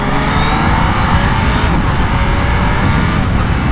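A 2020 Kawasaki Z H2 supercharged motorcycle rides under light throttle, its engine a steady, loud, continuous drone mixed with wind rush, no individual revs standing out.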